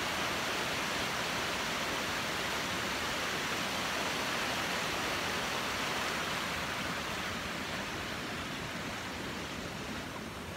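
Steady, full roar of a waterfall at a mill, a dense wash of falling water holding constant for the whole stretch with no voices over it.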